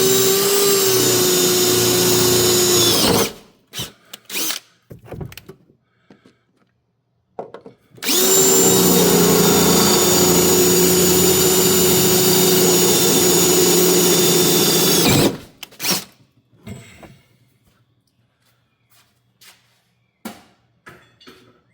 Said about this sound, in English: we can go ahead and drill out the holes all the way through